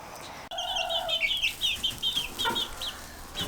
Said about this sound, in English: let's go check out the chickens and see how they're doing in their new space